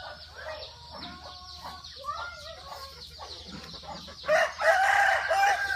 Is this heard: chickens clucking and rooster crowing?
yes